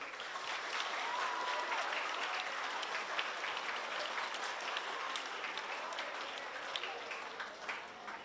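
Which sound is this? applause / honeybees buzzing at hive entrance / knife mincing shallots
applause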